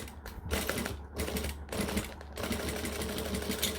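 A sewing machine stitches forward and back through fabric for a hacked Pouchles pouch, a steady close mechanical whir broken by brief pauses and speed changes, with no talk.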